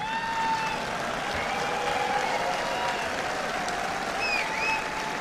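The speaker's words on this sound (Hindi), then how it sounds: "लेकिन ताली आपकी दम वाली नहीं है" A large audience claps steadily and evenly throughout, a dense, moderately loud wash of applause with no voice over it.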